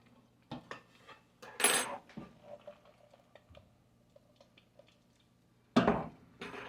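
Air-fried ribs being flipped over with metal utensils, sharp scrapes and clatters against the pan in a few bursts, separated by quieter gaps of small taps.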